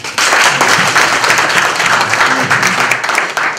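People at a union meeting clap to approve a business plan, a loud, close, continuous burst of many hands that keeps an even density from start to finish.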